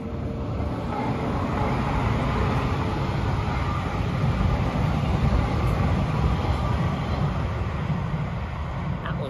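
Two coupled Class 195 diesel multiple units, an airport train, pass close by as a steady, loud rumble and roar of rail traffic that holds constant throughout.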